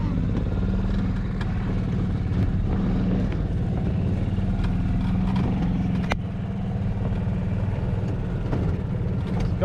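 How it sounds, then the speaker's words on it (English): Golf cart driving fast outdoors at a sawmill, its motor and rolling wheels giving a steady, continuous low rumble and whine with rattling, close and loud throughout. "This golf cart's driving too fast"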